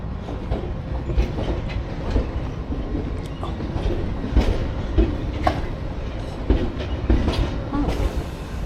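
A London Underground Piccadilly Line train, with a steady low rumble and faint rail clatter heard from close by, continuing throughout without talk.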